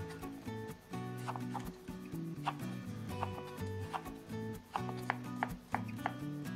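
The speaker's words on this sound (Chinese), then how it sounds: "我们先把青椒清洗干净，切成滚刀块。" Green peppers are roll-cut into chunks with a knife, producing quiet, irregular chopping taps on a board beneath louder tonal background music.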